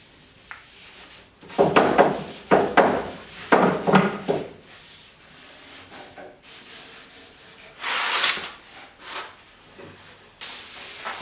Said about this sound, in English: Just wiping off any excess that we have.